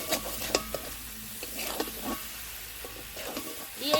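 Cracked egg being stirred into potatoes frying for alur dom, a soft continuous sizzle broken by repeated scraping strokes of a spatula against the pan, close by with no voices.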